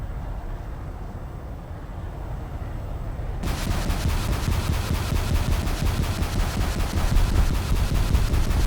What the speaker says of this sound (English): Let's see how much the base rocket loadout damage can do to an enemy base.